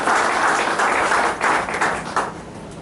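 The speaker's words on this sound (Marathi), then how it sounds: "त्यांच्याकडे आपण टाळ्या वाजू." Applause from an audience at a gathering, dense steady clapping filling the whole stretch with slight swells and dips, close and fairly loud, no voices over it.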